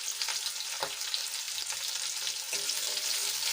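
Garlic cloves and chunks of ginger sizzle in hot oil in a pan for a capsicum gravy curry, a steady bright frying hiss with a couple of soft stirring knocks.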